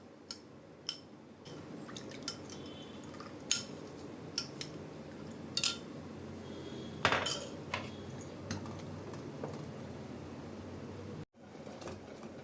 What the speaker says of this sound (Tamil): லைட்டாக கொஞ்சமாக பால் விட்டு கஸ்டர்ட் பவுடரை நல்லா கரைச்சி வச்சுக்கலாம்,